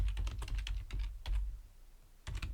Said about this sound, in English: I'm going to type in woman at